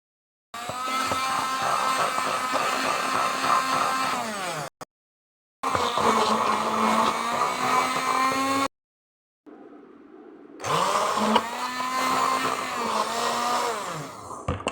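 A blender pureeing mango pieces into a paste with no water added, running in three loud whirring bursts separated by short pauses, its motor pitch dipping as it stops each time.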